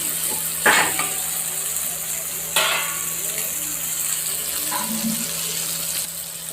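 Broiler chicken pieces drop into a cooked, sizzling spice masala, two sharp splashy bursts standing out over a steady close hiss of frying, followed by lighter stirring noises.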